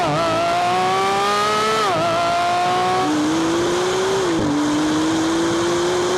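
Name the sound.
Porsche GT3 RS and Maserati MC20 accelerating in a race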